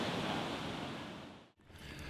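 Ocean surf at a beach roars as a steady broadband wash, fading briefly before rising again, with some wind noise on the microphone and no talking.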